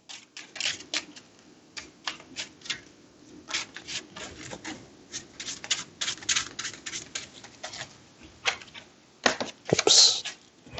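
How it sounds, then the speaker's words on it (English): Trading cards are shuffled back into a deck by hand, producing a string of dry, papery riffles and taps in irregular bursts, close and fairly soft, ending with a louder flurry. "I'm going to shuffle Superman, I think, back into my deck"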